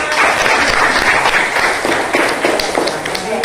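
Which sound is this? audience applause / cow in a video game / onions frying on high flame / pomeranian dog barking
audience applause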